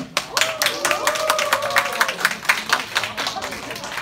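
A youth congregation claps loudly and steadily to welcome its 2019 youth group president, with voices calling out over the applause.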